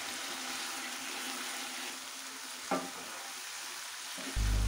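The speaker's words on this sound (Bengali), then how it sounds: "ধনিয়া পাতা দেওয়ার পরে আরও 2 মিনিটের মতো এটাকে একটু নেড়েচেড়ে কষিয়ে নিতে হবে" Egg and potato curry with chopped coriander leaves being stirred and sautéed in a pan, a soft continuous sizzle with a brief scrape of stirring partway through, no talk.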